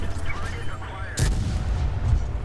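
The King Tiger tank's main gun firing in World of Tanks, one sharp loud boom with a rumbling tail over steady engine and track noise.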